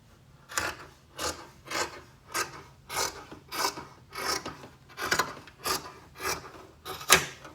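Fabric liner of a Yup'ik qaspeq being trimmed with scissors, about a dozen regular rasping snips in a steady rhythm, close and fairly quiet with no talking.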